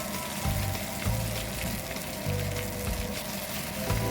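Onion and garlic paste frying in a pan as it is stirred, a close, dense sizzle with crackling bursts and a few scraping stirs, no voices over it.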